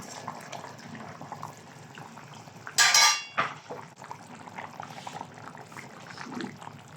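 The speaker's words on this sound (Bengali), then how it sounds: "ঝোলটা বলক উঠে এসেছে, এখন আমি এখানে ভেজে রাখা রুই মাছ দিয়ে দিব।" Fried rohu fish pieces go into a boiling curry in a pan, a soft bubbling simmer broken by a sudden loud splash and clatter near the middle, then a quieter simmer with faint utensil clinks.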